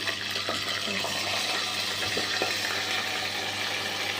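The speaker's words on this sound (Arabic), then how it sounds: "اول ما السمنه بدات تسيح هننزل بالرز بتاعنا" Soaked rice drops into melted ghee and oil in a pot and fries with a steady, dense sizzling hiss that stays even throughout, with a few faint knocks underneath.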